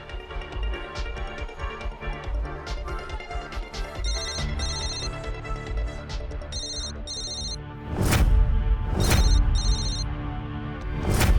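A mobile phone ringtone plays a repeating electronic melody over a musical drama score, with bright tonal bursts recurring and louder sweeping hits near the end, and no talking.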